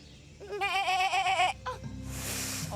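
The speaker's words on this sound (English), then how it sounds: "I thought I could hear a goat." A goat on a remote island bleats in a long, wavering, nasal call lasting about a second, then gives a shorter bleat. It sounds fairly close and clear over outdoor background noise.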